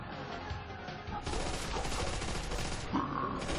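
Continuous loud gunfire in the Nazi Zombies video game, a dense, unbroken barrage of rapid shots that swells to full intensity after a moment and keeps going, with a voice briefly exclaiming over it.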